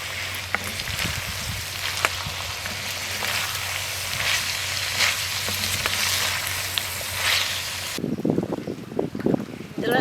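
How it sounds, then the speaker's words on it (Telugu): Curry leaves drop into hot oil for tempering a snake gourd kadhi, setting off a steady loud sizzle and crackle that turns sharper and more spattering near the end. "ఇందులో కరివేపాకు రెప్పలు కూడా వేసుకుంటున్నాను"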